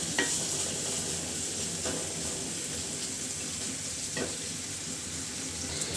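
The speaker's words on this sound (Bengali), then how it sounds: "পেঁয়াজটা খুব ভালো করে ভাজি করে নিব।" Onions sizzle steadily in a hot pan, a constant bright crackle with a few scraping stirs of a spatula spaced a couple of seconds apart, close by and without talk.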